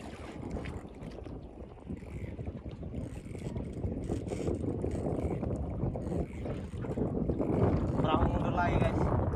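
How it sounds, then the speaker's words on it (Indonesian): Small boat churning backward through water, a steady broadband wash of engine and water noise with wind buffeting the microphone, growing slightly louder toward the end. "Perahu mundur lagi guys."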